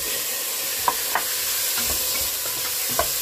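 Tomatoes stirred while frying with pork for kinamatisang baboy, a dense close sizzle with a few sharp spatula clicks and scrapes against the pan, alone with no talking.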